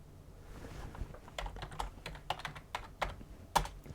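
Someone types on a computer keyboard connected through a KVM switch, giving a quiet, irregular run of close key clicks.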